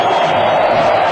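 Football crowd in a stadium cheering after a penalty is converted, a loud continuous roar of many voices with some whoops and scattered clapping, steady throughout.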